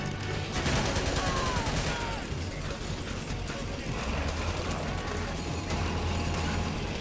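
Sustained suppressing gunfire in Metal Gear Solid 4: Guns of the Patriots on PS3, a dense, continuous rattle of shots with mechanical clatter and a low rumble throughout, steady and fairly loud.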